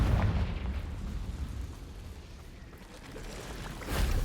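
Fiery Confringo spell explosion in Hogwarts Legacy, a broad rumbling boom that fades over a few seconds, followed by a second burst near the end.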